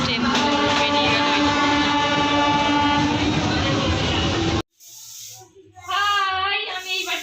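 A train pulls out with a loud, steady rumble, horn-like tones and rolling clatter that cut off abruptly partway through, after which a voice speaks over quieter background sound.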